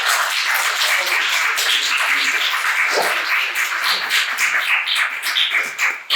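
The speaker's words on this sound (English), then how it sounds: "I would really appreciate a round of applause to our experts." A conference audience applauds panel experts steadily, dense clapping from many hands filling the room throughout, loud and sustained.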